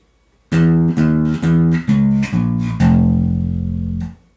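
A distorted metal bass riff built on harmonic minor modes plays alone: five evenly spaced, chugging note groups, then a final note held and left to ring out. The sound is loud and close.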